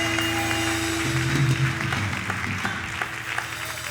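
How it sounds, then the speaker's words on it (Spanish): Church congregation applauding during a Spanish-language Sunday sermon, a steady wash of clapping from a mid-sized crowd with a low sustained tone underneath, fairly even throughout. "¿Puede darle ese aplauso al Señor?"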